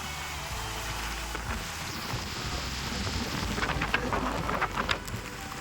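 Steady rain pours down outdoors on the way up to a hilltop temple, a dense continuous wash with faint rumbling underneath and no voices.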